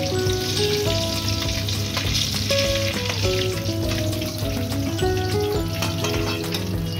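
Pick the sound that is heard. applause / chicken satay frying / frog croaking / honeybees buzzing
chicken satay frying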